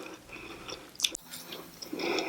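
Crispy fried tofu with fried rice crunching between the teeth, several close, wet bites and chews with one sharp crunch standing out in the middle, alone without talk.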